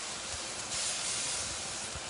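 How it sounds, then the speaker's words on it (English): Bacon sizzles steadily in a hot pan, a dense crackling hiss that swells slightly midway, close and with no talking. "You hear the sizzle?"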